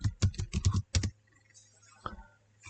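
Quick bursts of computer keyboard typing, about eight close clicky keystrokes in a fast run, then a pause and one more faint key press in a quiet room.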